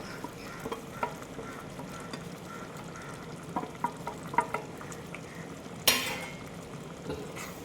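Fried mushrooms for a manchurian are stirred in a pan of thickened sauce, a soft sizzle running under occasional scrapes and clinks of the spoon, with one sharper metallic knock near the end.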